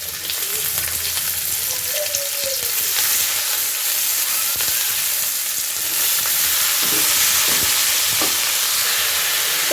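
Chopped onion and dried chili fry in hot oil with a loud, steady sizzle that holds throughout, broken by a few faint clinks of stirring.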